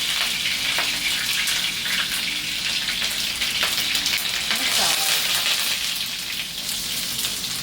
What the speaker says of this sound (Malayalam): ചൂടായി വരുമ്പം കടുക് ഇടുക. കടുക് പൊട്ടട്ടെ.